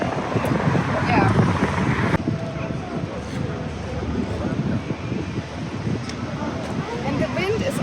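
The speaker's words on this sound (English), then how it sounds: "And the wind is also really tricky." Gusty wind buffets the microphone outdoors at a cycling tour in Turkey, a continuous low rumble with people talking over it.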